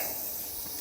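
Pork sausage sizzles on a Monument Grills Mesa II 410FBZ gas grill, a steady, soft hiss with no break.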